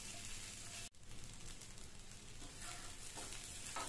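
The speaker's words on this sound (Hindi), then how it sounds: "आराम से अलट पलट कर हम इसे थोड़ा सा फ्राई करेंगे इसके ऊपर एक अच्छी सी क्रिस्प लेयर आने तक" Rice fara dumplings shallow-fry in a little oil over medium heat, a steady dense sizzle running throughout with a brief dip near the start as they are turned.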